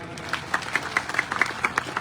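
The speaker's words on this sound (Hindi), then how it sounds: "जोरदार ताली" A crowd claps loudly and continuously at a political welcome rally in Sultana, greeting a politician, with a dense run of overlapping hand claps and sharper bursts rising throughout.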